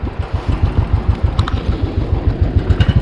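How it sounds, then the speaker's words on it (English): A Royal Enfield Thunderbird 500 motorcycle engine idles nearby with a steady, rapid low thumping pulse and a faint mechanical clatter, with no talking. "The motorcycle is ready to go."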